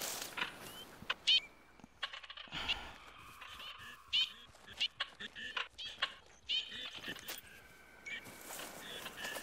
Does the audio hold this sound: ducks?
yes